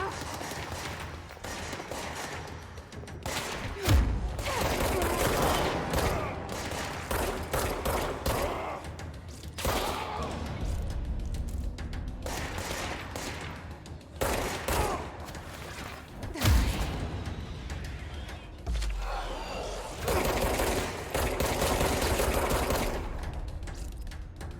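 Gunfire in the video game Control, bursts of rapid shots scoring headshots, with several sharp thumps among dense loud action noise over about twenty-five seconds.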